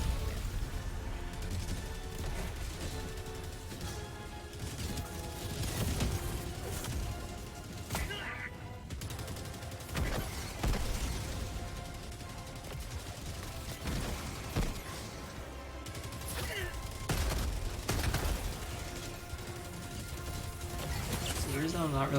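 Rocket and gatling sentry turrets fire continuously in Helldivers 2 during a solo ICBM mission on Helldive difficulty, with dense bursts, booms and clattering impacts layered with game music, while a player talks over it.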